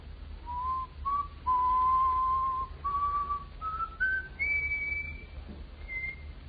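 A man whistles a slow tune alone, each note stepping higher over a faint steady hiss.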